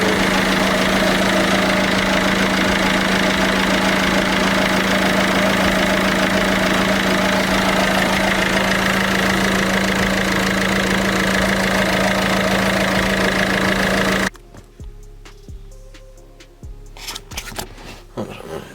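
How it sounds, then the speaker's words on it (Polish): A 1.6 HDI diesel car engine idles loudly and evenly up close for most of the clip, then cuts out abruptly, leaving faint clicks and rustling. "Silnik w miarę równo."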